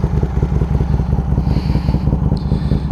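An Aprilia motorcycle with a shortened exhaust and a new radiator, its engine running close by with a loud, throbbing low rumble and rapid rhythmic exhaust pulses.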